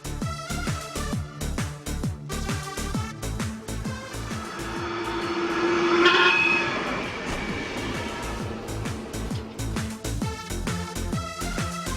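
Two trains meet and pass each other at a crossing point on a Norwegian railway near the Sognefjord: rhythmic wheel clatter over rail joints swells louder mid-way as the second train passes close by, with a brief tonal squeal.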